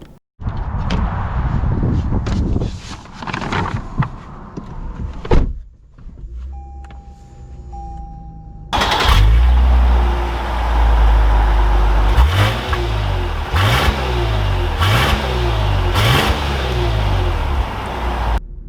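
2021 Lexus RC 350 F Sport: door and cabin clicks first, then the engine cranks and fires, settles to a steady idle, and is revved several times in rising, falling sweeps, close and loud.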